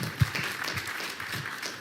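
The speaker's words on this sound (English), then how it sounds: "can we just give a round of applause to Alia" Audience applause at the 13th annual Shaykh Hassan Cisse Ziyara commemoration gathering in New York, heard as a soft, fairly distant wash of clapping with one brief louder thump near the start.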